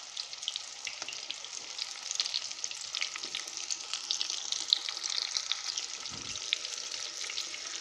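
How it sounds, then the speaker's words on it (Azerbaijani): Chicken cutlets frying in plenty of oil, a dense continuous crackling sizzle with fine popping throughout, close and steady with no voices. "Yağ bol olmalıdır ki, kotlet hər tərəfli qızarsın."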